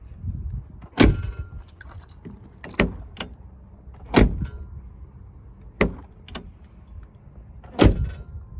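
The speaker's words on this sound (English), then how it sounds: "some people just never think about the sound that car doors make when they close" An old Nissan van's door shuts repeatedly at a salvage yard, five solid, sharp thuds spaced a second or two apart, close and distinct over faint background noise.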